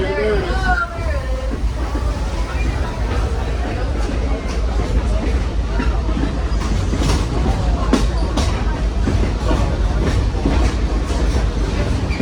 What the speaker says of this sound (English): The lead cars of the train are now passing the waterfall.